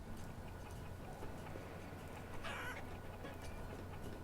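Chickens in the colony-building game Banished give a brief, faint cluck over a quiet ambient game background with soft ticking sounds.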